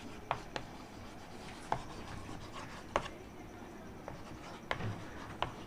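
Chalk or marker writing on a classroom board during a grammar lesson, soft scratchy strokes broken by a few sharp taps spaced a second or so apart, faint against a quiet room hiss.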